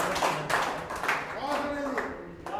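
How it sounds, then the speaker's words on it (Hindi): Scattered clapping rises from a poetry gathering audience at a kavi sammelan in Paota, loose and uneven bursts of applause under a voice talking over it. "पहली थे बजाओ सब जोरदार तालियां जी"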